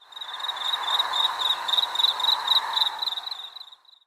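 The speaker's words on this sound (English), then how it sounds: "Did you say crickets?" A rapid, high-pitched insect trill pulses continuously, swelling and fading as a dense cricket chorus with no other sounds.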